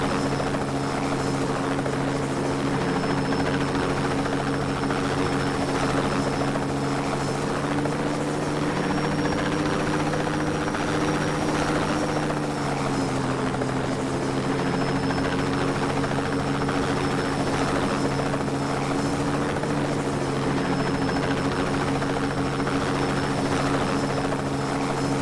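A helicopter flies in the video game Just Cause 2, its rotor and engine giving a continuous loud, even buzzing drone with a steady whine on top, unbroken from start to finish.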